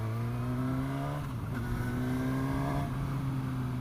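A 2019 Suzuki Katana motorcycle engine runs steadily while being ridden, a close, continuous droning hum with a slight dip in pitch midway and wind noise around it.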